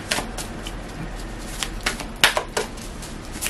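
A deck of tarot cards is shuffled in a series of soft, irregular riffling taps and flicks, close and fairly quiet, with no talking.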